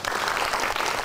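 Audience applause at the opening of a yoga centre in Tiền Hải, steady dense clapping from a crowd filling the whole short moment, fairly loud and close.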